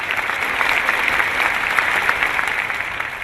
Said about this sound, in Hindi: let's give a big hand for them